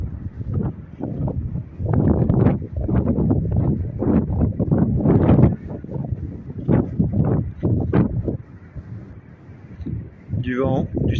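Wind gusts roar across the open Pamir mountains at an evening bivouac along the Pamir Highway in Tajikistan, buffeting in heavy irregular surges and lulls that batter the microphone, with no voices.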